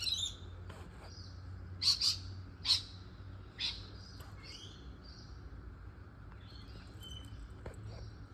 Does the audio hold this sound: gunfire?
no